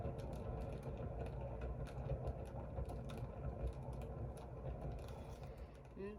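A paint spinner turning slowly under a cloud pour of fluid acrylic paint, giving a faint, steady, rattling mechanical whirr with people talking over it.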